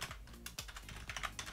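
Quick close-up typing on a computer keyboard while entering a Minecraft server command, a rapid run of crisp key clicks with no talk.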